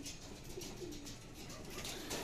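Racing pigeons coo softly at a training release in San Quintin, Pangasinan, with a few low, rolling coos rising briefly over faint background ambience, no talking.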